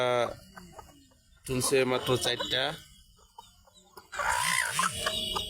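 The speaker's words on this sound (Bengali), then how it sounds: "দেশি মুরগি" Native country chickens with young chicks cluck and call in short bursts close by, with a person talking in between.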